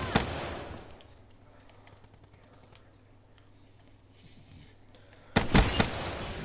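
A Shiva rifle fires in Black Ops 3. A loud burst of rapid shots opens the moment, followed by a quiet stretch of faint clicks and movement, then another sharp volley near the end.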